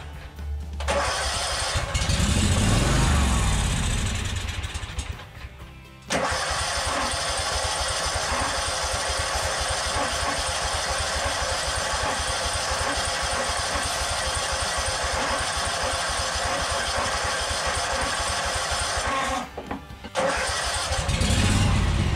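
A Yazoo Kees ZT Max 42-inch commercial zero turn mower, primed with carb cleaner, cranks and catches, then runs loud and close for a long stretch before briefly faltering and picking back up.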